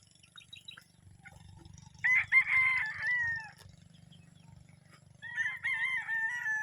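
Imported gamefowl roosters crow loudly twice at a gamefarm, each long crow standing out over soft clucking and a low, steady hum.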